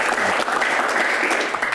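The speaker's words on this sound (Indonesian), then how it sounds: "Tepuk tangan" Audience applause at a talk show discussion about Constitutional Court judges, dense continuous clapping filling the whole short stretch at moderate loudness with no speech over it.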